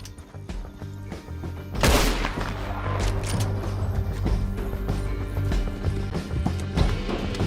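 Horse hooves pound steadily while riding in Red Dead Redemption 2, a continuous galloping clatter layered with dense game sound, with a louder burst near two seconds and shouting voices mixed in.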